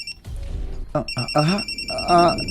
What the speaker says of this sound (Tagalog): Si Alice ang nanawag nimo?